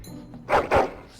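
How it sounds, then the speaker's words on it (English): Two sharp, close barks in quick succession from a dog in the Dragon Age: Origins video game, with quiet room tone before them. "Who is he barking at?"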